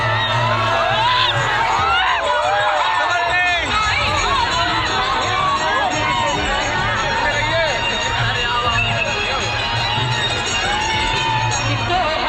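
A large crowd packs a live show in Hariharpur Nawabganj, Gonda, making a loud, unbroken din of shouting, whoops and cheering voices with music underneath, close and dense throughout.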